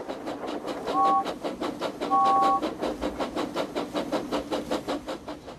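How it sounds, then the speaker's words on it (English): Two short, high steam engine whistle toots sound over a steady rhythmic chugging, the second blast slightly longer than the first, in an animated Thomas the Tank Engine cartoon. "So steam engines blow their whistles."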